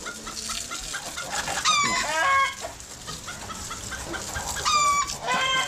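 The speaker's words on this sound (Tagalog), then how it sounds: "Mga manok na to. Puro putak na lang ng putak." Several chickens cluck and squawk close by in bursts, with a rooster's crow rising in twice amid the busy farmyard chatter.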